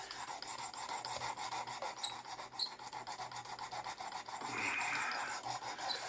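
Close, continuous grinding rasp comes from a folding knife being sharpened on a sharpening machine, with repeated strokes and a couple of sharper scraping peaks, no voices.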